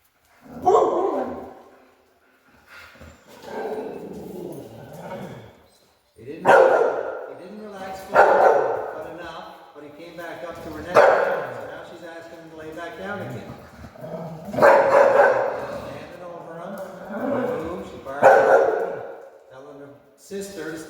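A mother dog barks and growls at her pup in repeated bursts spaced a few seconds apart, fairly close, with pauses of quiet between them.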